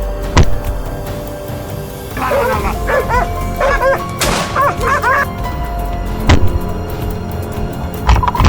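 Hunting dogs bark during a wild boar hunt outdoors. Loud, close barks and yips come in an irregular burst over a rough background rumble, with a few sharp thuds.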